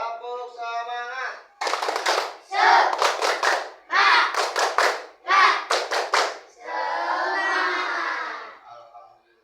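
Schoolchildren in an Islamic studies class shout a spirited chant together, broken by bursts of rhythmic group clapping in short patterned sets, loud and close, with voiced calls between the claps.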